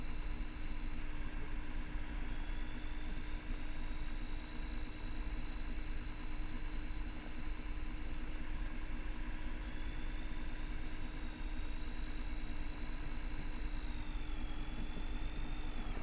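A Dodge truck's engine drones steadily while hauling a load in Farming Simulator 2015, a constant low rumble at an even, moderate level with a faint high whine rising and falling over it.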